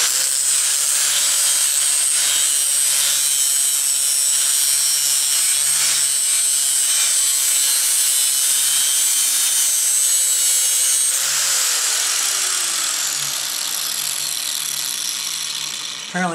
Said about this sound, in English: Apparently I'm not a professional with this grinder here. My cuts weren't very good.